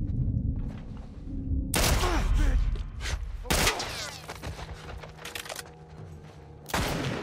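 A newly picked-up gun fires in the video game The Last of Us Part I: several loud, sharp shots at irregular intervals, each one a sudden crack, with cluttered ambient game noise in between.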